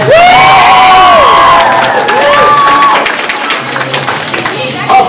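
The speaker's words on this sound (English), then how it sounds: "Please give a round of applause for Kiakia" A loud crowd at a cosplay fashion show at a convention bursts into applause and cheering, with high shrieks and whoops over dense clapping that gradually thins.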